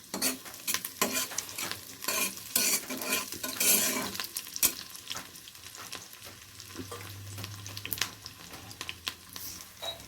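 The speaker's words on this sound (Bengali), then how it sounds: "পেঁয়াজটাকে ভালো করে ভেজে নেব।" Onions with two green chilies fry in a pan for a vegetable dal, a soft steady sizzle under repeated scraping and clinking stirs of a metal utensil against the pan, close and fairly quiet.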